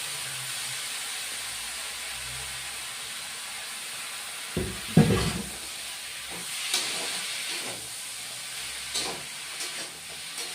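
Bathua greens with lentil dumplings hiss and steam in a hot pan, a steady sizzle broken by a few louder crackles and spatters midway, with no talking.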